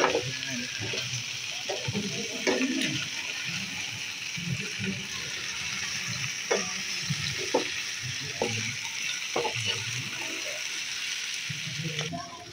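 Chicken curry frying in a pan while being stirred and scraped, a steady close sizzle with intermittent spoon scrapes and knocks, with a person talking over it.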